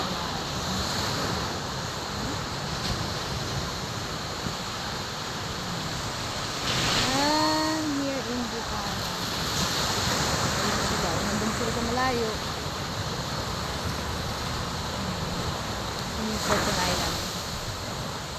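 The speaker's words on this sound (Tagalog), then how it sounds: "ayan po yung mga alon medyo mataas na" High ocean waves roar steadily with wind buffeting the microphone, and a voice briefly rises above the surf now and then.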